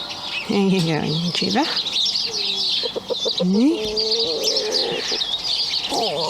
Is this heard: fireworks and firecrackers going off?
no